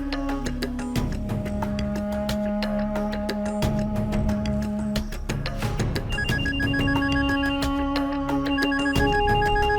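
A telephone rings repeatedly in a steady electronic pattern, loud and close, over a busy background of music-like tones, with no talking.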